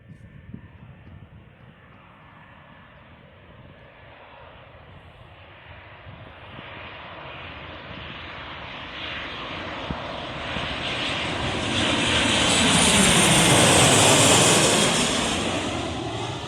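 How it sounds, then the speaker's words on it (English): An airliner coming in to land at Birmingham Airport, a distant engine roar that swells over several seconds to a loud whining rush as it passes overhead, then begins to fade. "And we've also got another plane coming to land."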